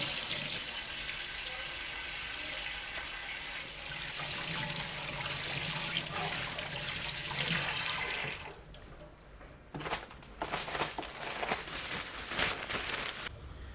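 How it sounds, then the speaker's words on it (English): Tap water runs steadily into a clinic sink used for hand washing between patients, a loud close rush that then stops and gives way to scattered drips and small splashes. "we've got a sink that we use between patients to make sure that we're keeping hygienic"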